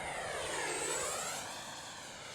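A radio-controlled Arrows F-15 with twin 64mm electric ducted fans makes a full-throttle pass. A steady, high-pitched whine sweeps past with a clear Doppler shift, then fades slightly as the jet moves away, with no voices.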